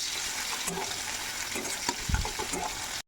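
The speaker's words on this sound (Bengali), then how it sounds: "এবারে পেঁয়াজটাকে আমরা খুব সুন্দর করে লাল লাল করে ভেজে নেবো" Sliced onions fry in oil in a kadai with a steady, close sizzle, broken by a few clinks and scrapes of stirring.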